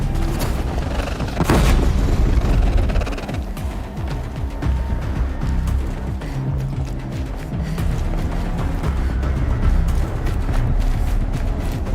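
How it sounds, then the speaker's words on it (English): A game explosion from Horizon Zero Dawn, a broad low boom that swells early and then rumbles and clatters on beneath continuous mechanical game noise, loud and sustained without speech. "Explosion"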